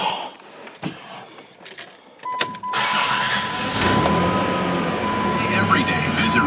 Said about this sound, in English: go in the vehicle, start it up.